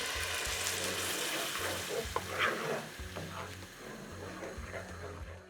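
Puree hits hot melted butter and oil in a pan and sizzles loudly at first, then settles into a steady frying hiss with occasional stirring scrapes.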